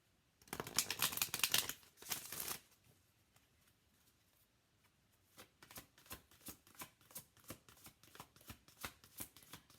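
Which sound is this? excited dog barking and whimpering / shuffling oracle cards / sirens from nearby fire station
shuffling oracle cards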